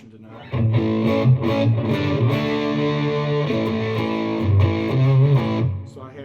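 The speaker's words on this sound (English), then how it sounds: "this is the purple one, the distortion overdrive, which is totally different than the green model" A James Tyler Variax electric guitar plays through a purple Behringer distortion overdrive pedal into a Fender Mustang GTX100 amp, giving a thick, saturated tone with sustained chords and bending notes.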